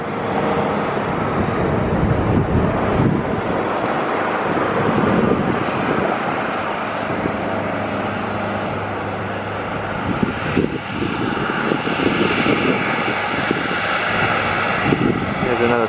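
A Boeing 757-200 airliner landing at Atlanta airport roars loudly and continuously, its engine noise swelling and shifting with wind buffeting the microphone and a person talking over it.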